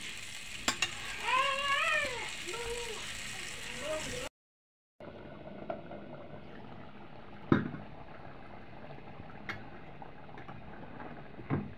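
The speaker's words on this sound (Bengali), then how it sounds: "মাছটা ডেকে আমি খুব সুন্দর করে কষিয়ে নেব" Small native tatkini fish being sautéed in a spicy curry in a pan: sizzling and stirring with a brief voice early on, a short silent break, then continued sizzle with occasional utensil clinks.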